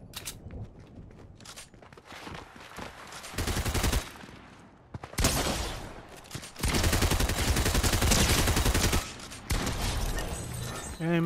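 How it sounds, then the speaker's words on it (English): Pump shotgun blasts in the video game Fortnite, loud bursts of gunfire mixed with game sound effects and music, coming in dense clusters with short pauses between them. "There's that pump shotgun. Ain't messing about."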